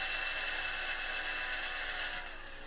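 Small rotary tool sanding down a tire, a steady high-pitched whine that holds close and loud before easing slightly near the end, with no voices.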